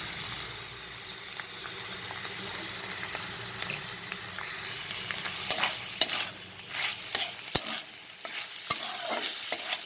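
Minced chicken keema sizzles and fries in a pan while being stirred, with a constant close crackle and scattered scraping clicks of the utensil against the pan.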